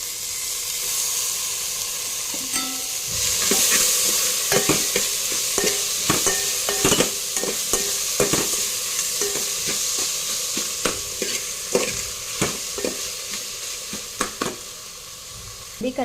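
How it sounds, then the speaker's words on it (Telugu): Tomatoes and green chillies sizzle in oil in a pan as they are stirred, a continuous frying hiss under frequent clicking and scraping strokes of the spoon, close and steady. "ఇదిగోండి కలిపేసి టమాటాలు మగ్గుతున్నాయి కదా, టమాటాలతో పాటు పచ్చిమిర్చి కూడా మగ్గుతాయి."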